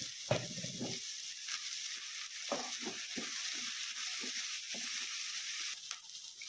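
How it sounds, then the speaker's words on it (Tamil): Lightly salted vegetables for a momo filling sauté in a pan, producing a constant soft sizzling hiss beneath a series of brief, low stirring scrapes spaced a second or so apart. "இப்போ லைட்டாக உப்பு சேர்த்துட்டு நல்லா வதங்கட்டும் பாருங்க."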